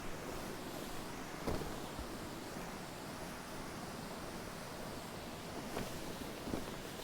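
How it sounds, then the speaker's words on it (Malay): Air escapes from a folded MOBI GARDEN inflatable air mattress in a soft, steady hiss that continues evenly, with a few faint rustles of fabric. "Jadi yang terbaik adalah kena tunggu angin dia betul-betul keluar lah."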